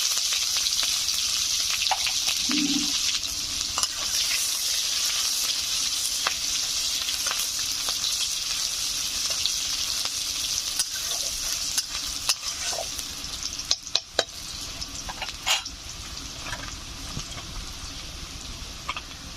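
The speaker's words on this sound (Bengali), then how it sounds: "কড়াইতে দিয়ে দিচ্ছি 2টো শুকনো লঙ্কা, 1/2 চামচ গোটা সাদা জিরে, দিয়ে দিচ্ছি 2টো তেজপাতা, একটা পেঁয়াজ কুচি" Dry red chillies, whole cumin, bay leaves and chopped onion frying in a kadai for jackfruit-seed dal, a long steady sizzle with stirring scrapes and a cluster of sharp spatula knocks near the end.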